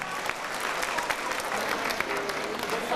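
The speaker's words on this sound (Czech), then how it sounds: "Prosím o potlesk, protože myslím, že tento akt si potlesk zaslouží." Guests at a formal company ball in Kralupy applaud in a steady, even wash of many hands clapping. The applause is fairly distant in a large hall, with faint crowd murmur underneath.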